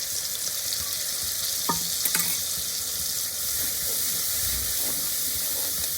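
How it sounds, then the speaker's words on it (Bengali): Prepared spice masala dropped into hot oil, a bright, steady hiss and sizzle with a couple of brief clinks and stirring scrapes, close and with no talking. "এবার যে মশলাটা আমি রেডি করে রেখেছিলাম সেই মশলাটাকে আমি ওই তেলের মধ্যে"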